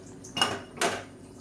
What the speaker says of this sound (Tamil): இப்போ வந்து தாளிக்கிற பேன் எடுத்துக்கலாம்.